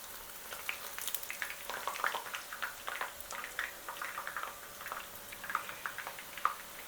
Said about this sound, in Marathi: गॅसवर एक पॅन ठेवलेलं आहे जिलेबी तळण्यासाठी, त्याच्यात तेल घालून घेतलेलं आहे